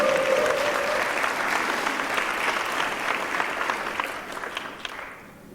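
An awards gala audience applauds steadily for team members seated at a table, the dense clapping continuing throughout and tapering at the very end.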